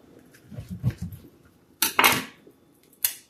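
Knife scoring around an ear of corn on the cob on a kitchen board: a few soft thuds, then two sharp scraping cuts and a final short clack, close and clear with no talk.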